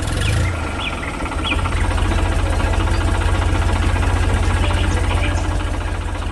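A green and yellow tractor working in a green field runs with a loud, steady low engine rumble, its throbbing idle-like beat continuous and close throughout.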